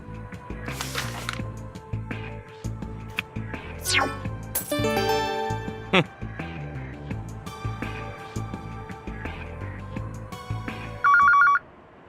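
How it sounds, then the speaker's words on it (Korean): Telephone ringing in a Korean adventure video game, bright repeated electronic ring tones over game music and sound effects, with a final short burst of ringing at the end. "누가 이런 엄숙한 시간에 전화질이야."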